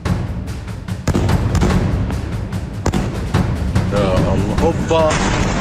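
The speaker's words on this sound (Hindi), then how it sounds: "आसमान से ऐसे बम बरस रहे हैं जिससे किसी की भी रूह कांप जाए।" Bombs explode during Israeli airstrikes on Gaza, a run of repeated heavy booms and thuds at uneven intervals, loud and reverberant, with voices and a rising whistling tone heard toward the end.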